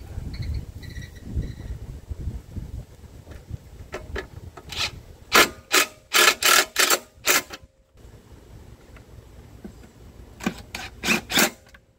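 A Toro Recycler lawnmower cover being screwed back down, heard as a series of close, sharp ratcheting clicks and scraping bursts in two clusters, with rubbing handling noise beforehand and no talk.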